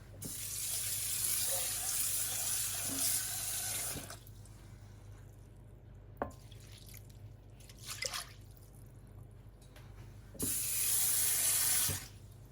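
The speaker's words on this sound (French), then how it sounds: "Je mets de l'eau." Tap water running into a pot of rice, a loud steady rushing pour that stops, then scattered drips and small handling sounds before the tap runs again near the end.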